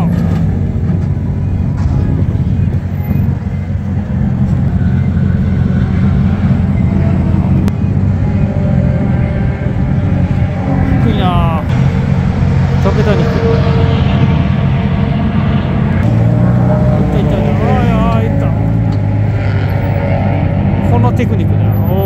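Loud exhaust from cars arriving at Fuji Speedway, a continuous heavy rumble with passing engines rising and falling, while people talk excitedly throughout.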